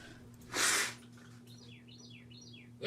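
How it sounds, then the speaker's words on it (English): Small birds chirp outdoors in a series of quick rising and falling tweets, fairly faint, following a brief burst of breathy noise close to the microphone over a low steady hum. "Y'all hear the birds?"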